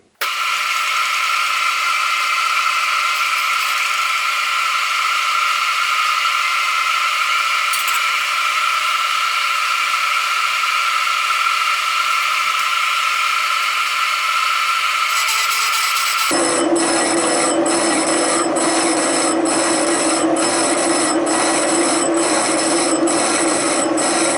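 A pencil being cut on a spinning machine at just under 100 rpm with a 1 mm depth of cut: a steady mechanical whir, then a loud rhythmic rasping, ratcheting grind as the cut begins.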